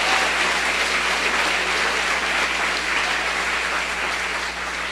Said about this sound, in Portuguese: Só você que crê, dá um aplauso gostoso ao Rei dos Reis.